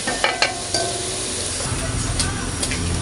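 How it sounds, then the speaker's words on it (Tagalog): Hotdogs frying in a pan for pork menudo give a steady close sizzle, with a few light clinks and stirring knocks near the start. "Mas maganda pong nagpa-fry dito ng hotdog tsaka kasi hindi po dumidikit"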